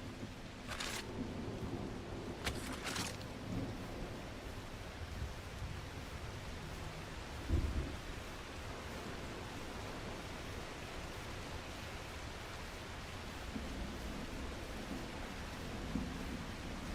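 In the survival game Curiosity Wakes, a steady hiss of rain falls throughout, broken early by a few sharp crackles and a low thunder thump midway; faint and continuous, with no speech.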